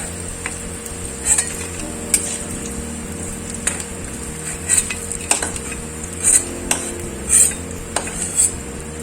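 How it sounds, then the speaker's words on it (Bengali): Potol dhoka pieces fry in a pan with a steady background sizzle, broken by recurring sharp metallic clinks and scrapes of a utensil against the pan. "এমনি সব ধোকাগুলো এমনি করে ভেজে নেবো।"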